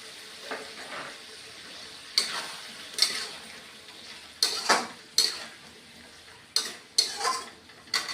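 Mutton curry with papaya in a pot, water just added, gives faint sizzling and simmering under repeated sharp spoon stirs and scrapes against the pot, several clustered clinks spaced a second or so apart.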